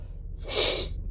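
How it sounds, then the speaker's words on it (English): A single close sneeze from a person with a head cold in the nose, a sharp breathy burst preceded by a brief intake and trailing off, alone in a quiet room. "I just sneezed."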